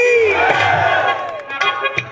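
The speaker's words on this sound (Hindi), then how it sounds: "एक बार इनके लिए भी जोरदार तालियां हो जाए" A crowd at a devotional rasiya folk singing programme bursts into loud cheering and shouting, with a tonal vocal cry rising over it and scattered claps as it subsides.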